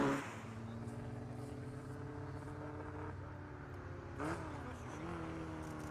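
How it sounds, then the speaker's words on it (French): A Ferrari 488 sports car engine at a historic hill climb on the Ballon d'Alsace, a sustained droning roar that holds steady before a brief rise and dip in pitch, moderately close and continuous. "Quelques voitures d'exception modernes étaient également au départ avec notamment une Ferrari 488 pilotée par René Arnoux"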